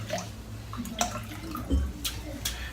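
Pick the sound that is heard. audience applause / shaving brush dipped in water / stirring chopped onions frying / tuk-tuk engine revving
shaving brush dipped in water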